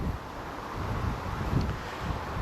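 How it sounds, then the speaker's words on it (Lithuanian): Outdoor wind on a hot day rushes and buffets steadily in a low, continuous roar with no voices. "vėjas biškį švilpia"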